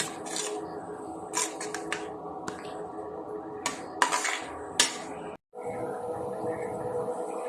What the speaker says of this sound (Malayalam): നമുക്കിങ്ങനെ ഇളക്കി കുറച്ച് നേരം ഇളക്കി ഈ ശർക്കരയൊക്കെ ഇതിനകത്ത് പിടിച്ചു വെക്കാം